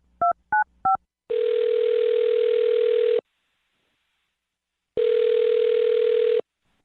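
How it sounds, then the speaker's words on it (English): Three short touch-tone beeps as a phone number is dialed, followed by two long, steady telephone ringback tones with a gap of silence between them, clear and close with no talking. "I'll dial her phone number right now then."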